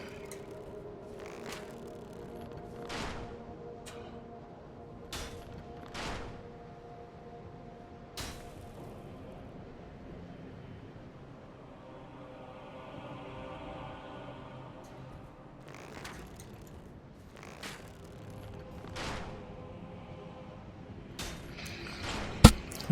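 Bow shots from archers in the video game Dark Souls, in Anor Londo: a series of sharp, brief releases scattered across a steady game backdrop, several close together, moderately loud.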